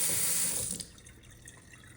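Water running from a Delta model 4353 faucet into a sink after a drip repair, a bright steady hiss for under a second that cuts off, leaving faint trickling and drips.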